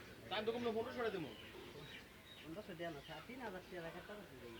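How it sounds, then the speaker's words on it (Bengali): Caged pigeons at an outdoor pigeon market coo and flutter close by, their soft calls mixing with steady talk and crowd noise throughout. "এক ভাই বাইকে করে এক খাঁচা কবুতর নিয়ে আসছেন"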